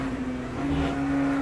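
LMP2 prototype race car in Le Mans Ultimate held flat out through turn 1 on the first lap at Silverstone, a steady, loud, sustained engine drone with a constant high tone and no audible gear changes over a brief moment.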